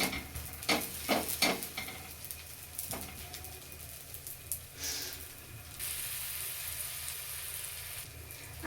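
Pav bread toasts on a tava for pav bhaji, a soft sizzle and frying hiss with several sharp scraping and stirring knocks early on, then a steadier, faint hissing crackle near the griddle.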